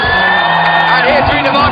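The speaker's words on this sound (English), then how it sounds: "the crowd are going crazy" A packed arena crowd roars and whoops continuously at a women's bouldering World Cup final in Log Dragomer, Slovenia, a loud dense wall of cheering with shouts rising above it.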